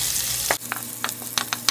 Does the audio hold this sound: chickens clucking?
no